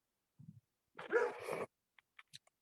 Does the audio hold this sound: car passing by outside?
no